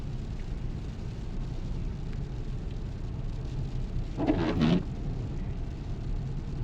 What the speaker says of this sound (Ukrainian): Дощ зі снігом.